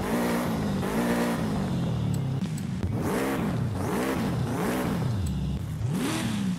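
A Subaru S209 STI with its original engine, in the Forza Horizon 5 racing game, revs repeatedly, its pitch rising and falling in several rapid sweeps under a loud, continuous engine drone.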